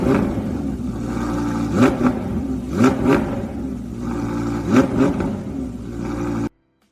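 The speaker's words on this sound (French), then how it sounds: "il a fait tourner le moteur pour entendre le son de l'échappement après les modifications." A repaired 2022 Audi R8 idles with a steady engine drone and exhaust note, broken by several sharp throttle blips that rise and fall, before cutting off abruptly.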